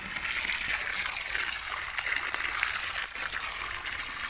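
Water gushes steadily over fresh vegetables being rinsed before frying at a roadside vegetable stall in Pakistan, a continuous close splashing stream with no pause.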